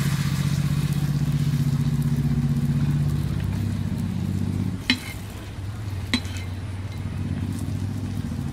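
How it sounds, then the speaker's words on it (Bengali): Small yeast-free baby naan frying in a hot pan, a steady close sizzle with a couple of sharp clinks from a utensil partway through. "সবগুলো সেম ভাবে ভেজে নেব।"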